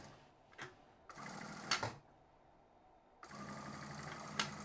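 A sewing machine back-stitches on a stuffed animal-cracker toy, with two short bursts of stitching separated by quiet pauses and a few small clicks, close up and fairly soft.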